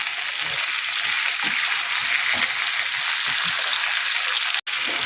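Bell peppers and onions fry in a pan with a steady, even crackling sizzle, close and constant, plus faint soft bumps and one brief dropout near the end.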